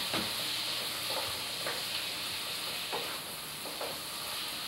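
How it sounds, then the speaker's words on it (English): Tomatoes and onions sizzling in a pan for a curry spice blend, a constant hissing fry close up with a few soft stirring taps, no talking. "And then add the tomatoes and onions."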